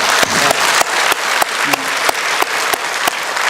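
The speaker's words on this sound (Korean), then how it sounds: "이 아이들에게 우리 축복의 박수를 한번 해줍시다." A church congregation applauds the children at a Children's Sunday service, with steady, dense clapping that holds at a constant level and shows faint rhythmic pulses throughout.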